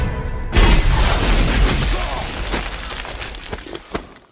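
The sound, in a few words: dynamite explosion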